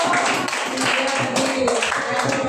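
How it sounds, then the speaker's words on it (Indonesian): Schoolchildren in a religious education classroom applaud a classmate with a short run of dense hand clapping, while a voice speaks over the clapping. "Tepuk tangan untuk Yasmin Surono."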